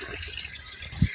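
Tap water runs briefly for washing clothes at home, a faint, low wash of water with a short, slightly stronger gush near the end.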